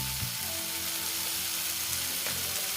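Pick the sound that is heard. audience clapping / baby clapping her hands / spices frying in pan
spices frying in pan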